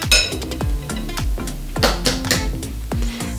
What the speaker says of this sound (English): And then next we're gonna go ahead and add 4 eggs